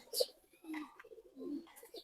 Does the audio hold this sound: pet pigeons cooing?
yes